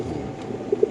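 Racer pigeons at a pigeon farm give low, soft coos, two brief murmuring notes near the end over quiet room noise.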